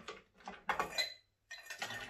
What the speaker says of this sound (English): maybe a few more ice cubes